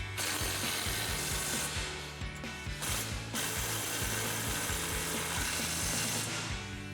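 A ratchet with an 18mm impact socket tightens a grille guard bracket bolt on a 2020-2023 Silverado 2500. Fast, steady clicking runs close and clear throughout, with a couple of brief pauses.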